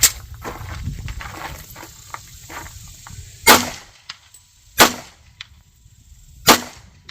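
A SIG Sauer P226 pistol fires three spaced single shots at an outdoor range, each a sharp close crack, after a stretch of quiet shuffling and handling noise.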